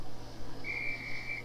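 A flying instructor's whistle from the Harry Potter PlayStation video game sounds as a single sustained high-pitched blast held steadily for about a second over a low background hum.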